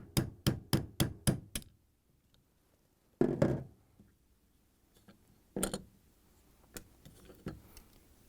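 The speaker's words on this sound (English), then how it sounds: "I'm going to hammer this pin out." A punch struck with a hammer drives a pin out of a Samsung refrigerator roller assembly, DA66-00440A: six quick, sharp metallic taps in a row, then a pause and a few scattered, separate blows, close and crisp.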